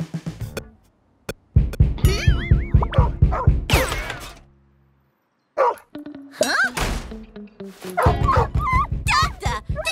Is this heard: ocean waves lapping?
no